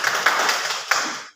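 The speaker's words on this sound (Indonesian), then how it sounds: "mari kita berikan tepuk tangan kepada masing-masing kelompok" Classroom applause during a microteaching lesson, a short burst of dense clapping from students that fades out after about a second.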